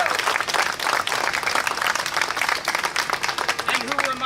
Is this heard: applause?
yes